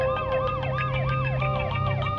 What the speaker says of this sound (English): she notices lights and sirens approaching from behind